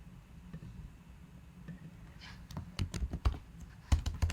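Computer keyboard typing, sparse light keystrokes at first, then quicker clustered clacks growing louder toward the end, close and dry with no talking.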